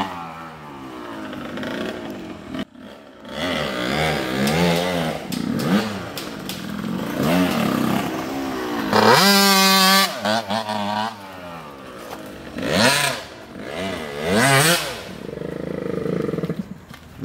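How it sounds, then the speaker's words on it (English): A two-stroke dirt bike revs hard through a full-speed burnout, its engine rising and falling in loud ragged bursts with a screaming peak midway, near and dominant throughout. "Do a burnout right here. Full speed burnout through there."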